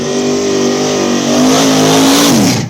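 Outlaw small tire race cars roar past at Mooresville, a loud sustained engine howl rising in pitch under hard acceleration, then dropping away near the end.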